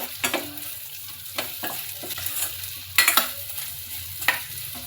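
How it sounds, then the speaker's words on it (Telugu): Okra pieces frying in a pan are stirred with a spatula that scrapes and taps against the metal over a steady sizzle. The strokes are close and come in uneven bursts, one louder clatter near the end. "ఈ బెండకాయ ముక్కలు కూడా మొత్తం కలిసే విధంగా కలుపుకొని"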